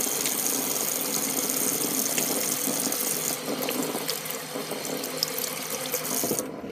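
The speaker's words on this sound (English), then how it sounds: "first thing we're going to do is wash our hands" Water runs steadily from a kitchen tap while hands are washed under it, a loud continuous splashing rush close by that changes tone slightly toward the end, with no talking.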